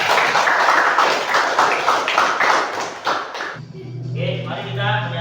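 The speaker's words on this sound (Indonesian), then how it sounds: "tepuk tangan untuk kalian" Elementary school pupils at an SD Negeri classroom clap hands in a brisk, dense burst of rhythmic applause for several seconds, then it stops abruptly and a voice begins singing.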